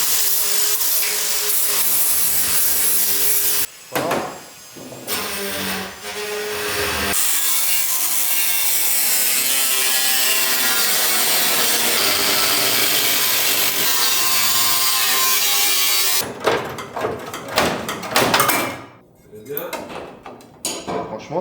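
A cutting disc biting into the bodywork of a Porsche, a long loud continuous grinding screech broken by short pauses, with voices talking between cuts.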